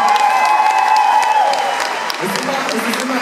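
A concert crowd at a club venue claps continuously, a loud and dense wash of applause with some cheering, while someone speaks German over it.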